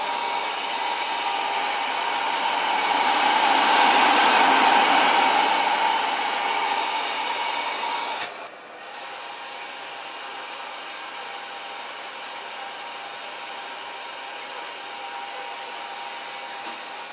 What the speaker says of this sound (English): Finally, the last step is a hot air blowing drying.